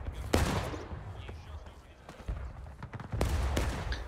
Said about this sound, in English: I just shot through the bush